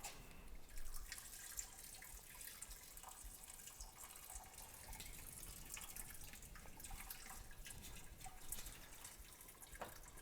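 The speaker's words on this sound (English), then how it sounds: "I'm going to lift the grain bag out" Hot wort drips and trickles from a lifted grain bag back into the pot during one-gallon all-grain homebrewing, a faint, continuous patter of drops with a few louder splashes and no speech.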